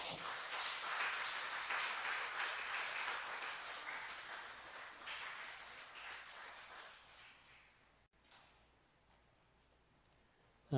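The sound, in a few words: congregation applause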